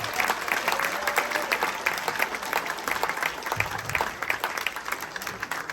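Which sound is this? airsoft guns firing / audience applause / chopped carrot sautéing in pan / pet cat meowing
audience applause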